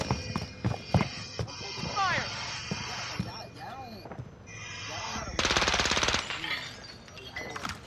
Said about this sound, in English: You were shooting at something in the sky.